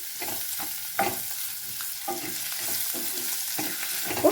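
Cauliflower gravy being stirred with salt in a frying pan, with soft spatula scrapes and taps over a light sizzle, close and moderately quiet, no talking.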